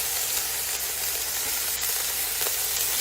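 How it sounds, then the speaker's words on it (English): Pork shoulder sautéing skin side down in an Instant Pot, giving a steady, moderate sizzle with faint crackles and no voices over it. "we're gonna saute that pork shoulder on each side"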